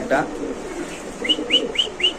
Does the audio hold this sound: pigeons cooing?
yes